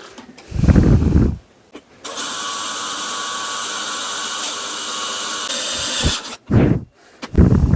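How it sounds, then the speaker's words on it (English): A power drill whines steadily for several seconds drilling a metal actuator bracket, bracketed by loud thumps and clatter of metal handling before and after. "So I'm going to drill this now, tap it, so we can put this into place."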